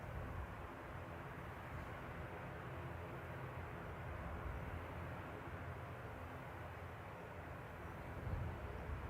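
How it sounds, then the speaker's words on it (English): A TAP Air Portugal Embraer 195 airliner arriving at Manchester Airport, heard as a steady, fairly distant low jet roar that holds evenly throughout and swells slightly near the end, with no talking. "Our little TAP Air Portugal Embraer 195 coming in from Lisbon."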